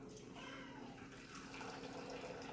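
Pre-boiled hot water pours steadily into a coffee maker, a continuous soft liquid rush held at an even, fairly quiet level for a few seconds.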